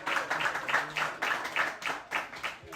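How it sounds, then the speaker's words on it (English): An audience at a book launch claps for a pilot, a brief burst of moderately loud, rhythmic applause with regular clusters of claps, heard from within the room. "Can we please clap for him again?"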